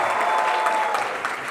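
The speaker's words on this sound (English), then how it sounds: "Can we have a huge round of applause for Mahima and Ayush here?" A crowd at a college event applauds for a film's lead pair, dense steady clapping filling the room at a loud, even level, with a faint murmur of voices underneath.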